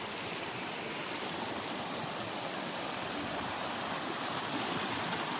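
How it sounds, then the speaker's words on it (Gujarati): Knee-deep, river-like water flows in a steady, even rush, a continuous broadband wash with no breaks, moderately faint and heard alone without voices. "નદી ટાઈપ લાગે છે।"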